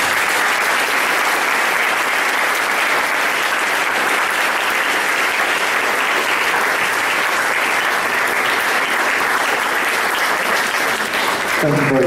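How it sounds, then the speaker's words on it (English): Sustained, dense applause from an audience after a school presentation, loud and steady throughout with no pause, fading slightly near the end. "Could we all have a round of applause for the presentation?"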